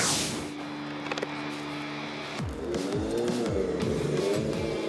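An Emula electric motorbike's McFly core system plays an emulated combustion engine note that rises and falls through revs, with sweeping pitch changes and a sustained drone throughout.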